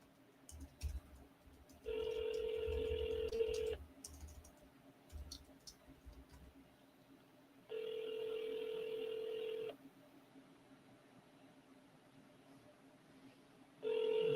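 An outgoing phone call to a seller rings through the earpiece: three loud ringback bursts, each about two seconds, separated by longer gaps with faint clicks and low rumble.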